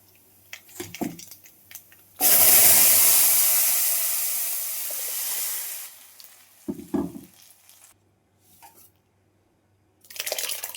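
Tempering of dried red chillies, mustard seeds, black urad dal, cumin and fennel in sesame oil hits with a sudden loud sizzle that hisses steadily for several seconds, then fades, with brief stirring sounds and another burst near the end.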